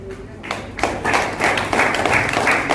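An audience applauding to welcome zonal team coordinators at a shop opening event, a steady wash of clapping that builds and holds throughout, fairly loud and close with no clear talk.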